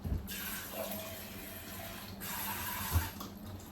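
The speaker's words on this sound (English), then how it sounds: "Like me, I feel like I want to add some water to this." Water runs from a tap in a steady stream, splashing into a pot of oatmeal porridge, with a couple of louder surges; fairly close and unbroken.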